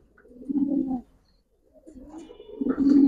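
Giribaz pigeons coo in two low, throaty phrases close by, separated by a short silence, the second phrase rising louder toward the end.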